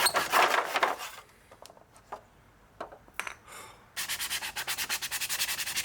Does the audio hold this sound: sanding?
yes